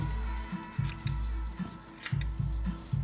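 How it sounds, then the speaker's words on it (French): Scissors snip a small strip of cotton wick for a Vapor Giant Mini V3 rebuildable atomizer, giving a series of close, crisp cuts in a steady rhythm with no talking. "Alors, donc je vais en couper une petite bande."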